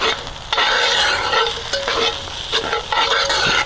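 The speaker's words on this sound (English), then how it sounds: "Give that a good stir." A spatula stirs a sizzling breakfast of peppers in a pan over a grill fire, with steady frying hiss broken by repeated scraping strokes, close and loud, with no talk.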